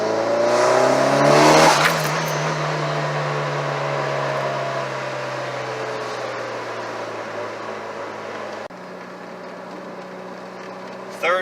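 A car fitted with an FP Red turbo accelerates hard through the gears, the engine climbing in pitch with rising turbo spool, then a shift drops the revs before it pulls again, close and loud inside the cabin.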